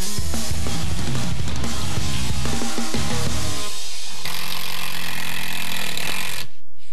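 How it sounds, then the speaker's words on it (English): A Rockwell 3rill 3-in-1 cordless impact driver drives decking screws into wood without pre-drilling, giving a loud, continuous rattling hammer close up. "we are driving these decking screws in with ease"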